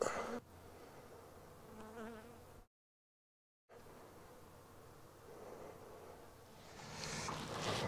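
Honeybees buzzing at an open hive in Provence, a dense steady hum broken by a second of silence partway through, then swelling slightly louder toward the end.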